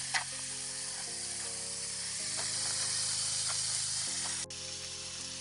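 Bacon and eggs frying on a SAN Hima camp stove make a steady, close sizzle, with faint clicks and pops, beneath continuous tonal background music.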